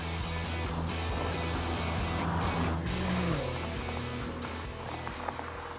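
A BMW M6 Cabrio with a 560 PS V8 drives by, a steady throaty engine hum with a mild swell partway through, heard from inside or close by. Wind and road noise run underneath throughout.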